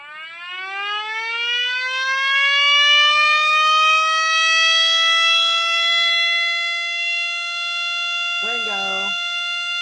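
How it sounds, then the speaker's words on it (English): A 3D-printed 12-port mini siren powered from USB winds up and holds a loud, steady multi-tone wail that sounds slightly overpitched, with a brief voice speaking near the end. "it's a 12-port siren"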